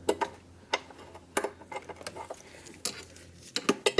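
A socket tool driving screws with washers into Jeep Cherokee XJ suspension, giving sharp irregular ratcheting clicks and ticks spaced unevenly across a few seconds, close and fairly quiet.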